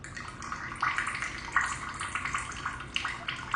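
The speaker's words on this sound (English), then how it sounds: "while I drain a can of beans" Liquid from a can of beans is drained and splashes into a sink in a steady, soft watery trickle with small sloshing bursts, close and fairly quiet.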